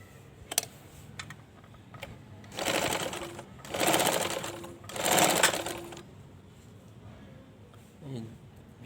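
A sewing machine stitches in several short bursts of rapid mechanical whirring, close and fairly quiet, with soft clicks and handling noises in the pauses between runs.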